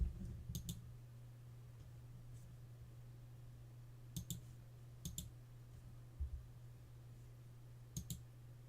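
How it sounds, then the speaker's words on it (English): Mouse clicks while browsing eBay listings for miniatures on a computer, heard as a quick double click and then scattered single and paired clicks, soft and close over a steady low electrical hum. "So I'm just clicking around."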